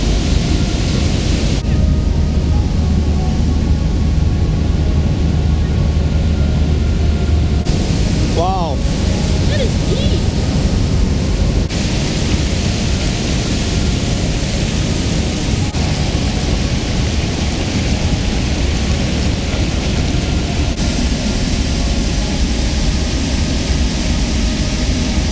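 Water gushes loudly and continuously at the Almonda river spring, a dense rushing roar that fills the whole span, with brief voices over it.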